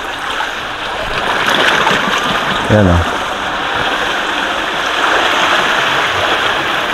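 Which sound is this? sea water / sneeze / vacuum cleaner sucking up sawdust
sea water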